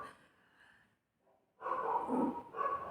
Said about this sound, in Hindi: मैंने कुत्ता भौंकने की बात की तो बाहर कुत्ता भौंकने भी लगा है